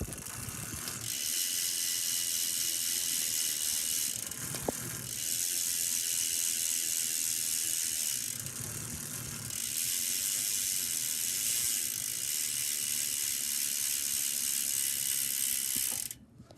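A bicycle freewheel ratchet clicks rapidly and continuously as the pedals turn, a loud buzzing whir heard up close that pauses briefly twice before resuming.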